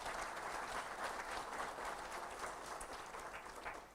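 An audience at a national fire services conference gives a warm round of applause, a steady, distant wash of many hands clapping that continues evenly throughout.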